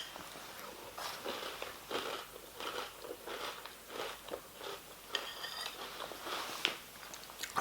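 Honey nut pillow cereal is crunched in milk, giving a steady run of close, moist bites and chewing in an even rhythm with no talking.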